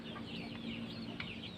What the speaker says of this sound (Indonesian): Ini anakan burung cendet